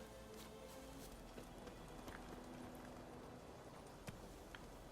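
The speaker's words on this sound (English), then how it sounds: "Alright, let me get on my horse." Horse hooves clip-clopping in The Witcher 3 video game, a soft steady patter of steps under ambient game noise with a few faint sharper knocks.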